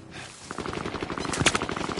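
Gunfire in the video game Call of Duty Warzone, a rapid automatic burst of close shots in a fast, steady rhythm with one louder crack near the end.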